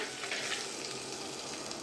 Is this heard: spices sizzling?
yes